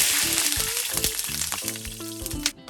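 Tuna slices shallow-fry in oil in a frying pan, giving off a steady, loud, close sizzle with crackling pops throughout.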